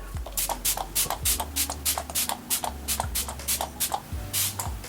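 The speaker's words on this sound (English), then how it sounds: "Now I'm going to take my Fix Plus and just spritz that all" Fix Plus setting spray spritzed over a made-up face, a close series of short sharp hissing bursts in quick irregular rhythm.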